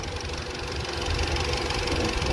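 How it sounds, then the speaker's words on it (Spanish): Volkswagen GTI 2.0 TSI engine running, a steady mid-pitched mechanical hum with a faint ticking rhythm, close and continuous with no talk. "vamos a checar primero el motor del GTI"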